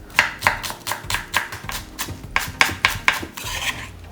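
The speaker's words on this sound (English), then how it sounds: "Finely chop the green onions." A knife finely chops green onions and carrots on a cutting board, producing a steady run of crisp, close taps about every quarter second, with no voices.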